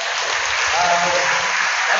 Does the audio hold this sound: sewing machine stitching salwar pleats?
no